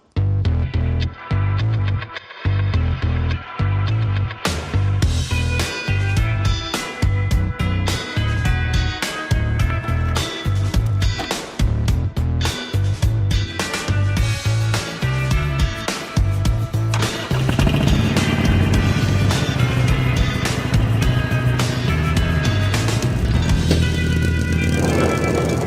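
A Harley-Davidson Sportster Iron 883 motorcycle's engine rumbles loudly and close, with repeated throttle blips and revs, then settles into a steadier, sustained roar as the ride gets going.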